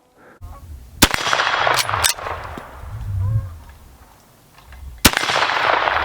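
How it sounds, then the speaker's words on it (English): Rifle shots from a .50 Express Colt Lightning ring out against steel targets outdoors: two sharp, loud reports roughly a second apart, then a lull of ringing and rustle before a third crack near the end. "Love all the smoke flying, red mist flying, banging off the steel."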